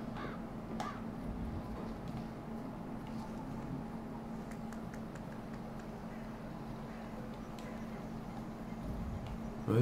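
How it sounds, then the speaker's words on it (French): Crows cawing in a cemetery in Hitman 3's Dartmoor level, a few scattered caws over a steady low ambient hum, with some quiet background voice. "Débarrassez-vous des oiseaux dans le cimetière."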